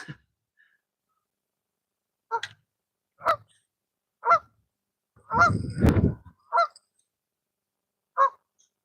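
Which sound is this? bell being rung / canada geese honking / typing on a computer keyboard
canada geese honking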